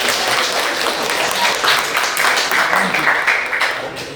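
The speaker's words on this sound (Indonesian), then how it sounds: "Tepuk tangan untuk Paris" Classroom applause for a student after presenting, a steady wash of many hands clapping close by that holds for a few seconds before easing slightly at the end.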